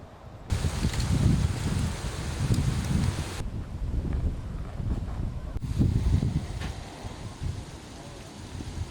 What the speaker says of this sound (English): as we're seeing, it's windy.